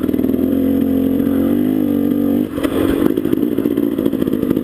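A 1975 Suzuki TM250 motorcycle being ridden, its two-stroke engine droning steadily and loudly up close, then dropping briefly before a rougher, clattering roar resumes.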